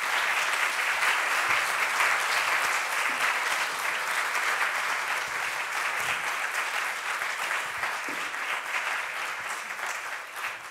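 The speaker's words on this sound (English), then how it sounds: "with a hearty round of applause" An audience at a diversity dialogue event breaks into sustained applause welcoming a speaker, a dense, even clapping that stays loud and close for the whole stretch before slowly tapering off.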